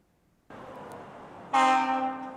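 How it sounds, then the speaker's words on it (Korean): Passenger train entering the new Sinandong Station on the Jungang Line, a rolling rumble that starts abruptly, then a loud, sustained horn blast near at hand. "중앙선 신안동역에 마침내 첫 번째 여객열차가 진입합니다"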